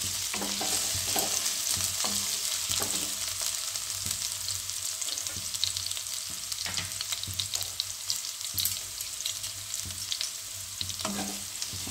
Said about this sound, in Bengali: এবার আলুটা আমার ভাজা হয়ে গেল।